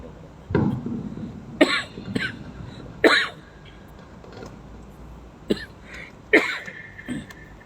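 Several coughs and throat-clearings from an audience during a Malay-language religious sermon, scattered singly and in short bursts over a quiet room, some loud and close, others fainter.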